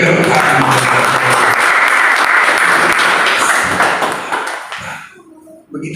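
Loud, dense clapping from a worship gathering in an apartment prayer meeting carries on for about four seconds, then thins and fades out, leaving a few scattered claps and faint room sounds.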